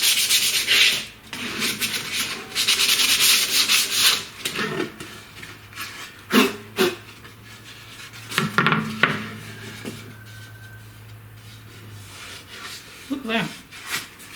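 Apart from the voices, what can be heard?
light hand sanding of a wood edge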